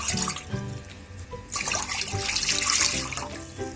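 Water splashes and gushes steadily into a vessel, a continuous running pour with bright splattering, close and fairly loud.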